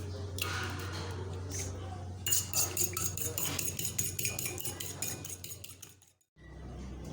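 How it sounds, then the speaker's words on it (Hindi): An egg is beaten in a bowl for kabab-style lentil patties: a quick, even run of close metallic clinks and taps from the utensil against the dish, stopping abruptly near the end. "और अब हम यहाँ अंडा लेंगे और उसको अंडे को फेंटेंगे"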